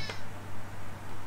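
A pet cat meows once, briefly and fairly close, over a steady low hum in an indoor room.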